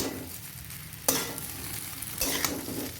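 Chowmein stir-fried and tossed in mustard oil without sauce: a continuous close sizzle broken by two sharp scraping tosses of the spatula through the noodles, no talking.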